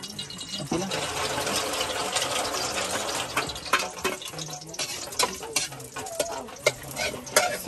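Food frying and being stirred in cooking oil in a pan, a steady close sizzle with scraping stir strokes and clinks that grow more irregular toward the end, without talk.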